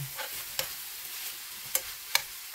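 Bitter gourd and chicken, seasoned with black pepper, get stirred in a pan: a faint sizzle runs beneath a few sharp, separate clicks and scrapes of a utensil against the metal.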